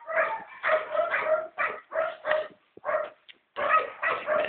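A dog gives a run of short repeated barks mixed with whimpering yips, close and fairly loud, in bursts with brief pauses between them.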